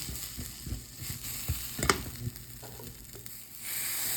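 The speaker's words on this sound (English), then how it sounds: "You can hear it sizzling." An oatmeal omelette sizzles and crackles steadily in a hot pan, with scraping stir strokes and a few louder clatters of a utensil against the pan.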